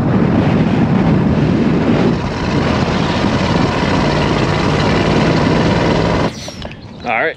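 A 1969 Ford F250 Highboy truck drives along, its engine a loud, steady droning rumble with road noise for several seconds before cutting out abruptly, followed by a brief burst of clatter near the end.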